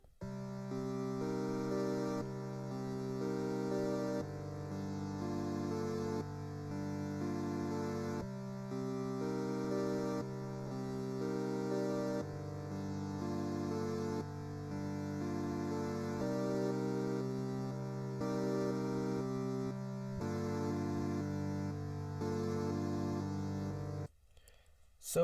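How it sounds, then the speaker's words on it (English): Arturia CS80V software synth playing its Warm Pad preset: soft, sustained chords that shift every few seconds in a steady, even progression, quiet and alone with no voices, ending in a brief cutoff. "the name of the preset is Warm Pad and it sounds like this."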